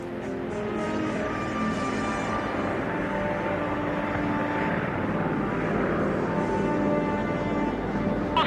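Propeller aircraft engine roaring steadily and loudly at takeoff from Thule, a B-29 bomber's broad droning rumble holding constant throughout with no talk.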